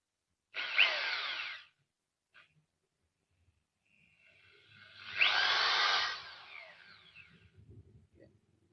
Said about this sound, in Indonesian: Ya, lumayan kenceng ya kalau bor listrik ya.